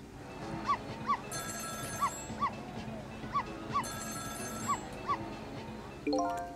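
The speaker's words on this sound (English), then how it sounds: "It was the sound of a telephone ringing, coming from the apartment next door." A telephone rings in the apartment next door in the video game Ghost Trick. Paired electronic rings repeat in a steady rhythm, each ring with a short chirping onset, over a low background hum.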